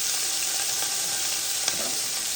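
Onions and green chillies frying in oil in a pan for chana pulao, a steady close sizzle throughout with one brief stir clink, no voices.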